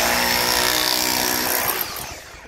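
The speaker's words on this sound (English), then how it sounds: "I've got my old trusty drill" An old power drill bores into the ground around a leaning metal gate post, a loud, close, continuous whining grind that fades slightly toward the end.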